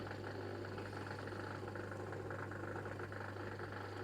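A Cookology CMDW2 dishwasher pumping out residual water, a steady low motor hum with gurgling flow, constant and moderately quiet.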